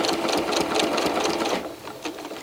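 A sewing machine stitching steadily during free motion quilting, a loud, close, rapid mechanical whir that runs continuously and eases slightly near the end as the needle slows.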